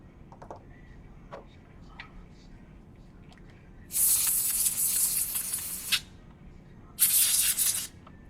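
Two short bursts of air hiss, about two seconds and then one second long, blow into the charger port of a Samsung T350/T355 tablet during a solder repair, with light clicks and handling noises before them.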